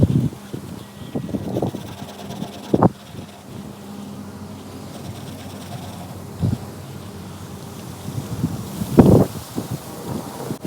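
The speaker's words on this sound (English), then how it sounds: "the wind was getting a little bit too intense and it was starting to blow things all over my table out there" Strong outdoor wind buffets the microphone in uneven low rumbling gusts, with a few sharp thumps and rustles of objects being blown about on a table, loud and close with no speech.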